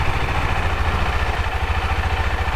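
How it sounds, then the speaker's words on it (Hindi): A KTM 390 Adventure motorcycle engine idles steadily nearby, its low, even pulsing thrum unbroken throughout with no talking. "ये कौन सी बाइक है? KTM एडवेंचर है ये।"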